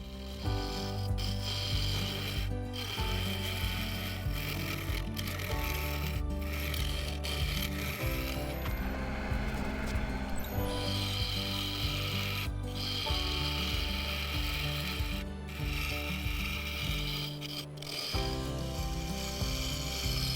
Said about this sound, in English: I started with a 3/8 bowl gouge, but this soon gave way to the mid-sized carbide.